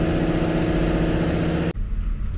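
A Toyota cargo truck engine runs with a steady, dense low rumble close by, then the noise drops abruptly and continues as a quieter, rougher hum.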